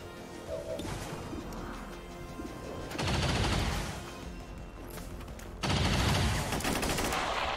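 Gunfire in XCOM 2 aimed at a Lancer: dense crackling rifle bursts with sharp impacts, swelling into two louder crashing volleys, close and harsh throughout.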